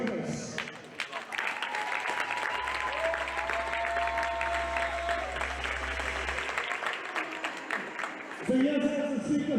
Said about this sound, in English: Can we give a beautiful round of applause to our trainers?